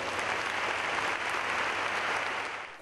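Sustained applause from a large hall of standing business owners giving an ovation, a dense, even clapping roar throughout, loud and unbroken.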